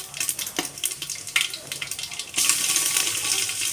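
Curry leaves, cumin and mustard seeds with raw masala crackling in hot oil for pulav, scattered pops and clinks giving way to a loud steady sizzle, close up.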